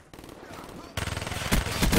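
Multiplayer shooter game match, with faint background noise first, then a sudden loud rapid stream of automatic gunfire with heavier shots building toward the end.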